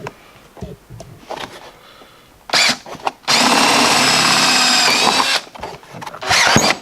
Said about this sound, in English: You can draw a big dot because we're drilling a 3/4 inch hole.